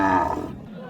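A cow moos loudly and close by at a busy Eid-ul-Adha Qurbani cattle market in Naogaon, one long low call that fades toward the end.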